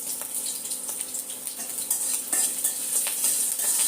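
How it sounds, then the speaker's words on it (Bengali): Okra (bhindi) frying in a home kitchen pan, a continuous close sizzle broken by frequent stirring scrapes and utensil clinks, with no one speaking. "তো দেখো, আমি ভেন্ডি ভাজাটা তুলে দিয়েছি।"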